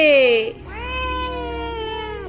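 An angry cat lets out a loud, drawn-out meow close by, then a longer growling caterwaul that rises and holds; a person speaks around it.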